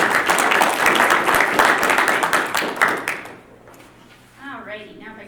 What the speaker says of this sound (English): If we could ask for a round of applause for those.